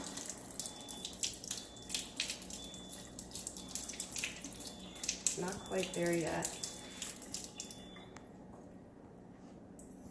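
Water runs from a brand-new Kangen water ionizer into a container, a steady low splashing flow beneath a speaking voice, with a brief burst of pouring near the middle before it fades out.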